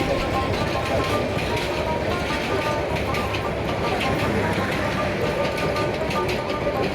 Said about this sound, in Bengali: ঢাকা থেকে ছেড়ে আসা আন্তনগর মোহনগঞ্জ এক্সপ্রেস ট্রেনটি তাওরাত বাজার অতিক্রম করছে দ্রুত গতিতে